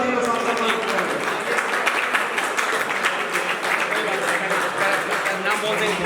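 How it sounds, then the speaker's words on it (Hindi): An audience at a Louis Braille birthday celebration applauds an honoree being felicitated on stage, with steady dense clapping throughout and voices mixed in. "आप जोरदार तालियां बजाएं"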